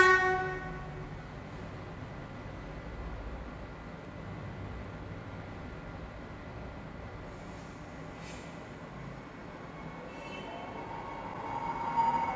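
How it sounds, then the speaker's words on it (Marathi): A passing train rumbles as a faint, steady broadband roar, with a brief higher horn-like tone near the end and a slight swell at the start and finish. "ही आहे आगगाडी रेल्वे"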